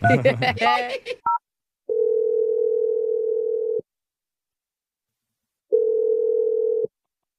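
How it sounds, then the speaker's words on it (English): Short burst of talk, then a steady telephone tone sounds in two long unbroken stretches with silence between them, as a radio-show host places a call. "I'm dialing her number right now."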